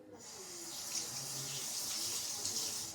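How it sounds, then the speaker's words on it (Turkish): Hands washed under a running tap, a steady hissing stream of water splashing into the sink, close and continuous for the whole stretch without talk. "Ellerimi şimdi yıkamam lazım."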